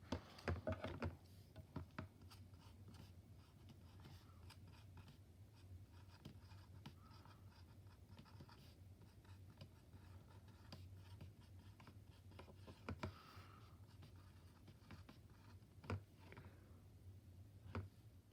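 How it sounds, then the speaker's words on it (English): Writing on paper during a geometry lesson on triangle angles, faint scratchy pen or pencil strokes in short bursts with pauses, close but quiet over a low steady hum. "I'll write that right at the bottom here."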